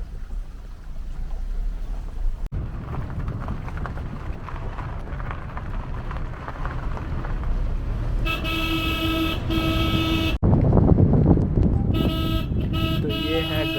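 Car horns toot in short, repeated bursts over a steady engine and road rumble on a narrow Garhwal mountain road in Uttarakhand, fairly close and loud, with a few voices under the traffic.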